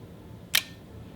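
The shutter of a Mamiya RZ67 medium-format camera closes after a long exposure over one minute, producing a single sharp, close mechanical click midway through an otherwise quiet stretch.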